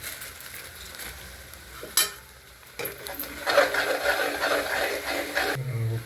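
Ground spices for a postpartum masala roast in a pan, a crackling sizzle broken by stirring scrapes and a sharp clank, growing louder toward the end.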